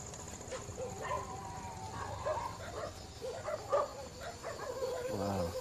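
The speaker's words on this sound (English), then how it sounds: "Wow, the dogs are really going nuts down there right now." Dogs bark in agitated bursts below a hillside with a leopard close by, yips and whimpers mixed in over a steady outdoor hum of insects, moderately distant and continuous.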